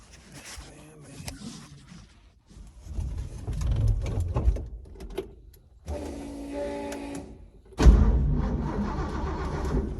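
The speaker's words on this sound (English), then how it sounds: "Thought I would cold start the 65." A 1965 Ford with an FE 390 big-block V8 cranks after sitting for a while and catches, settling into a loud, rough cold idle with bursts of revving, heard up close with no talking.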